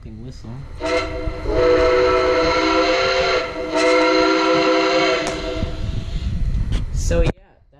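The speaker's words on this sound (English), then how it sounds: "Here's the smoking whistle." Whistle of a Lionel Legacy Nickel Plate Road 765 model steam locomotive, with smoke, blowing loud and close in two long sustained blasts that break briefly in the middle, followed by a short toot before it cuts off.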